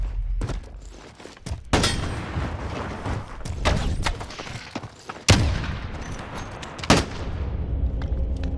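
Call of Duty: Modern Warfare gameplay gunfire, a dense mix of rapid shots, sharp bursts and heavy booming impacts, loud and continuous over the whole stretch with several big hits standing out.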